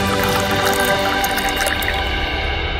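Purified water pours and trickles into a glass, a steady close liquid splash with drip-like detail running the whole time with no voices.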